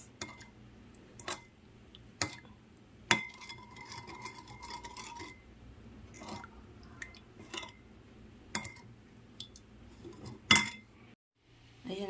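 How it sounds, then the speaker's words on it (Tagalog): Meat mixed with marinade and oil in a bowl makes soft, sparse clinks and wet squishes, with occasional sharp utensil taps against the bowl spread over quiet stretches. "Mix lang natin siya guys. Ayan ang ating pang marinade."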